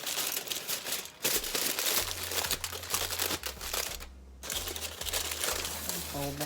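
Crinkling foil or plastic wrap folded around a loaf of vegan garlic bread in a home kitchen, a steady dense rustle running throughout with a low hum beneath.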